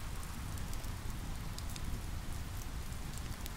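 Rain drums steadily on an outdoor shelter, a dense close patter with scattered sharper drips standing out and no voices.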